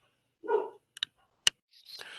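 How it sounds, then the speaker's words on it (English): A dog barks during a town board meeting: one close, muffled woof, then a few sharp clicks and knocks and a fainter, breathy yelp in a quiet room. "Sounds like we had a barking dog seconding that motion."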